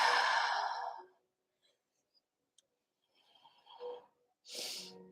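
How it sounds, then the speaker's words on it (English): Deep breathing in a yoga flow, a long audible exhale followed by quiet, then a softer inhale and another strong breath out, close and clear. "Breathing here, inhale deeply, and exhale deeply."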